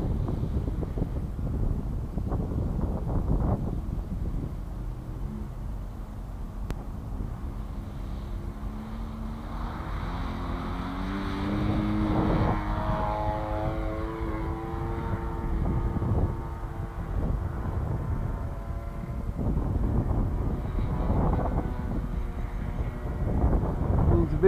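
An Extreme Flight 74-inch Laser radio-controlled model airplane drones through the sky on a wind-buffeted outdoor flight, its engine tone swelling and shifting pitch as it sweeps past in the middle, fading back under steady wind rumble.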